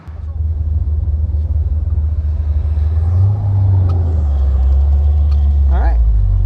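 A 1968 Corvette rolls steadily down the road at about 2,700 RPM, its deep engine rumble droning loud and close from inside the car while someone talks over it.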